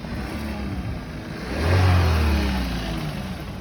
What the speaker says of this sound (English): All right, you heard him rev it up there.